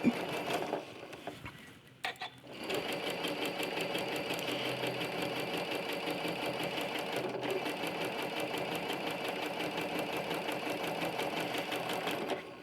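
A sewing machine stitches quilt blocks in a steady, rapid mechanical patter, running almost continuously with a brief pause near the start and a short break later.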